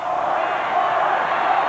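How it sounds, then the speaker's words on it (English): A huge outdoor crowd roars at the 1991 Chicago Bulls championship celebration in Grant Park, a steady, distant wall of cheering with no single voice standing out. "Listen to the crowd."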